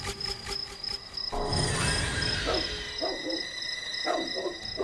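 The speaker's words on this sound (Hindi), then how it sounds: "अरे बाप रे, ये कुत्ता ऐसे क्यों भौंक रहा है?" A dog barks at night on an empty road: several sharp barks rise over a constant bed of crickets and a high whistling tone, fairly distant and moderately loud.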